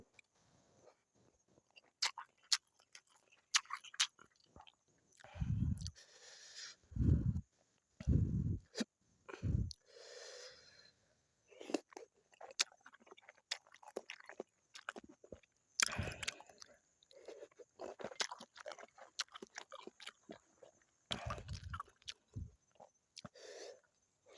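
Someone eats very spicy tom yum with pork sausage and chili powder, alongside sticky rice and crunchy vegetables, up close: wet chewing, biting and crunching in irregular bursts with slurps and pauses, mostly alone in a quiet room.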